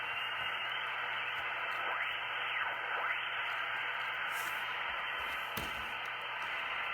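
Ten Tec Paragon 2 shortwave receiver tuned to the 160 meter band in LSB mode, giving a steady wash of hiss and static with faint drifting tones and a brief crackle, no voices.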